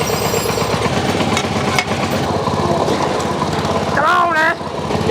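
A small tractor engine runs steadily while pulling an old International farm truck out of a barn by chain, its loud, rough rumble continuous, with people talking over it.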